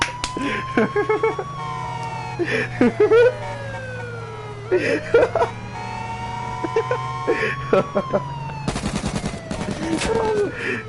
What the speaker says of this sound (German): mach Sirene an, Brudi, mach Sirene an.